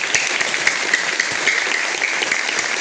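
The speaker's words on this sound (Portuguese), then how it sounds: "Dá uma salva de palmas então para o Senhor." A church congregation claps together in a sustained round of applause, a dense, steady patter of many hands filling the room for the whole span.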